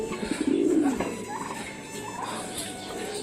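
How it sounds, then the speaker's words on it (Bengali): Backyard chickens clucking and fussing close by, a burst of agitated bird calls early on and softer cooing and murmuring afterward, with no one speaking. "এই দেখো মুরগিগুলো পাগল হচ্ছে"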